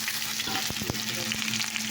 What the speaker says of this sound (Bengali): বন্ধুরা, আমার হয়ে গেছে, করলা ভাজাটা আমি দিয়ে দিলাম।